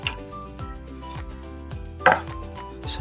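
A knife chopping ginger on a board in quick repeated strokes, with a sharper clack about two-thirds through; no talking.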